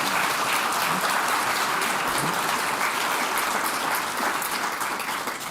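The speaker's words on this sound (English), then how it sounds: "Can we have one more round of applause for our panelists?" A seated audience applauds the panelists at the close of a talk program on rivers, parks and design. The clapping is sustained, loud and evenly dense from many hands for over five seconds, tapering slightly at the end.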